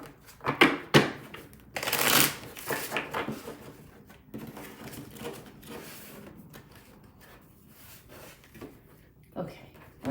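Tarot cards riffling and shuffling in quick bursts up close, louder early on, then softer rustling and handling with a few later flicks.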